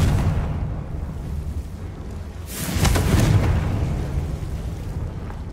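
A Confringo blasting spell in Hogwarts Legacy, a video game, bursts into a loud, rumbling explosion midway through, swelling over a low ambient game drone and trailing off into a sustained roar.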